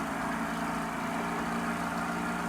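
Upgraded boat's motor running in the fishing game Cast n Chill, a steady droning engine hum with no change in pitch or pace.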